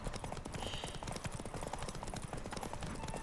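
Horse hooves clip-clop at a steady riding pace in The Witcher 3 video game, fairly close and even over a dense background of game sound.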